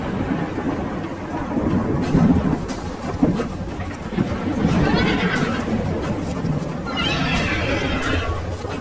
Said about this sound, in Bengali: আবার শুরু হয় প্রবল ঝড় বৃষ্টি।